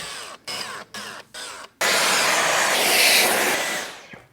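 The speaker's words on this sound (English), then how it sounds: "Drill the pilot hole." A power drill whirs in four short bursts, then runs in one long, steady, loud spin before winding down, drilling a pilot hole for a sit-stand desk frame.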